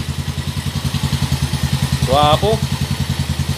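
A lowered Pantra motorcycle idling close by, its engine thumping in an even, rapid pulse throughout, loud and steady, with a brief spoken word over it.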